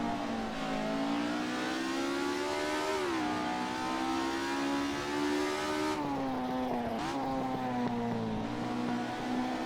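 A Ford Escort RS1600 in Assetto Corsa accelerates hard out of a chicane, its engine note climbing steadily through the gears with brief dips at upshifts, loud and continuous throughout.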